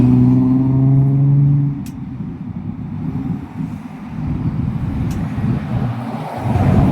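Rush hour traffic at a Falcon Bridge street corner in Canada: a close engine hum fades into a steady, broad rumble of passing cars and trucks, with a couple of faint high clicks and no talking.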